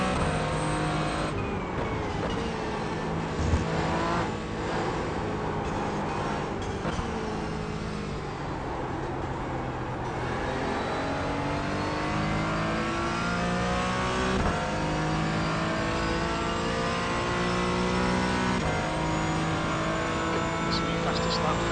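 Porsche race car in Gran Turismo 4 at the Portland circuit, its engine droning steadily and rising and falling in pitch through gear changes over a continuous run, with a voice talking over it.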